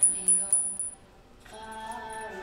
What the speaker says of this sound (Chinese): 它本身声音的部分的话会比较有尾韵一点，